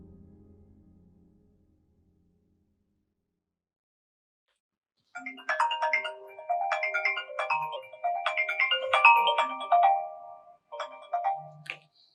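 A telephone ringtone plays a bright, repeating melodic tune that starts after several seconds of near silence and continues clearly until the end.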